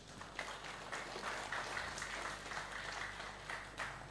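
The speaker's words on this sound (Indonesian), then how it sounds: "Boleh tepuk tangan." Seated attendees at a keris heritage seminar in Bekonang give soft, scattered applause, a faint, fairly distant patter of hands with a few sharper claps standing out.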